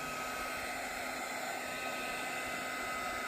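A heat gun warms the adhesive on a thin carbon fiber mirror cover for a 2024+ Ford Mustang S650, giving a steady, even blowing hiss that runs unbroken and close throughout, with no talking.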